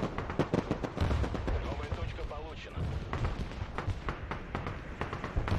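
Cannon and artillery fire in the multiplayer war game Broken Arrow, during a large combined-arms urban battle: a dense barrage of booming blasts and sharp shots overlapping throughout, loud and continuous, with voices talking underneath.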